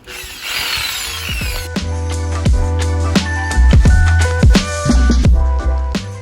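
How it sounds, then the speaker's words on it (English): Jigsaw cutting a hole along a taped line inside a frame during a 1978 caravan kitchen fit-out, a loud close buzzing motor with rapid blade chatter and pitch dips as it bites into the material, preceded by a brief rubbing noise. "I'm just going to run along that tape, cut that hole out. Jigsaw should be able to do a nice straight edge"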